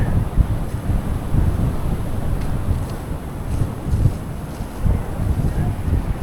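Wind gusting across a beach during metal detecting, a loud, continuous low rumble of buffeting against the microphone that swells and eases throughout.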